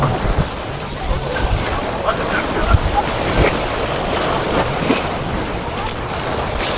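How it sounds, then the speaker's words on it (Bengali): Loud, continuous roar of strong ocean surf crashing at Kite Beach, Dubai, with wind buffeting the microphone throughout. "দেখতে পাচ্ছেন এখানে প্রচন্ড ঢেউ।"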